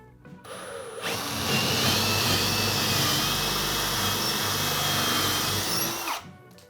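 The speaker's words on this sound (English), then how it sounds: "now I'm just gonna drill my holes for my lag bolts." A power drill whirs loudly and steadily for several seconds, boring lag bolt holes into a wall, then winds down and stops.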